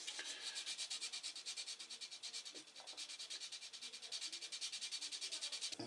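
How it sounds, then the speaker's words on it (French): Hand sanding with 800-grit paper on the fuel tank of a Yamaha XV 1000 Virago motorcycle, a steady close rhythmic scratching of rapid back-and-forth strokes that runs without pause and with no talk. "Une cale à poncer au pire pour aller au plus près du beurre. Donc là c'est du 800."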